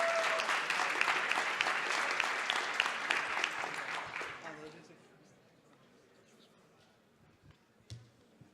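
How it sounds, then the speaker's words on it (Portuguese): Audience at the Brazil Conference 2017 gives loud, dense, sustained applause that fades away after about four and a half seconds, leaving a quiet room with a few faint knocks. "Salve de palmas para ele."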